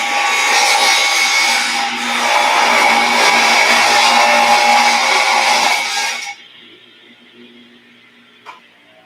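Saw cutting the end off a wood guitar body blank, a loud continuous buzzing cut lasting about six seconds that stops abruptly, followed by near silence and a single small knock.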